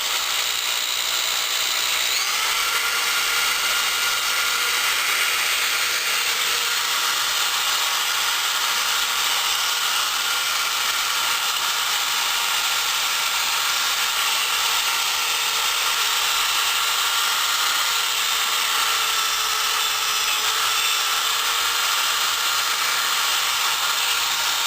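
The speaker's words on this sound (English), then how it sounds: "I just use a simple drill with a brush here that goes around" A drill spins a brush against the valve seats of a cylinder head, giving a steady, unbroken high whir and grinding rasp that stays at an even loudness throughout.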